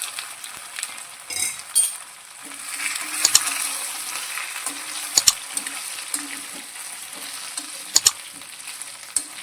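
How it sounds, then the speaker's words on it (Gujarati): Muthiya frying in oil tempered with mustard seeds, white sesame and curry leaves, a steady soft sizzle with occasional sharp spatters and crackles, close by and with no talk. "વઘારની અંદર મુઠિયાને આપણે 3 થી 4 મિનિટ આ રીતે સાતરીશું, એટલે ઉપરથી થોડા ક્રિસ્પી થશે"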